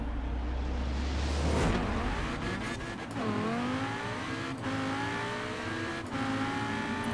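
A Ferrari fitted with a Lamborghini engine launches hard with wheel spin, its engine roaring and rising through the gears while the tires squeal, loud and continuous with brief dips at each gear change.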